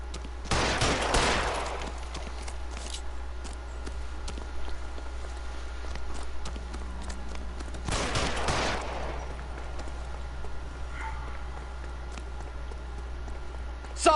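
Two sharp gunshots in the video game LA Noire, spaced several seconds apart over a steady low hum, each a loud crack that briefly fills the scene.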